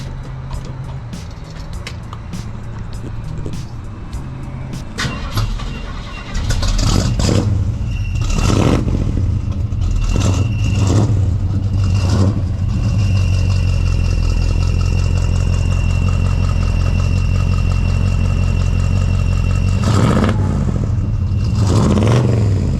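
A classic car with a new crate motor cranks and fires, then settles into a loud, lumpy idle close by, punctuated by several sharp revs that swell and drop back.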